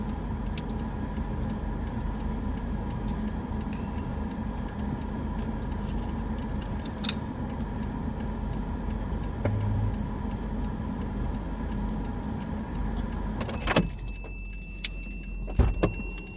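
A truck in motion heard from inside the cab: a steady low engine and road rumble holds throughout, with a few small rattles and clicks near the end.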